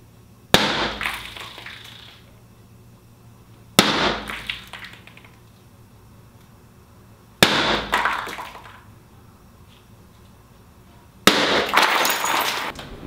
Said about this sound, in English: Now I'll show you me breaking some glass in a French door without the film on it.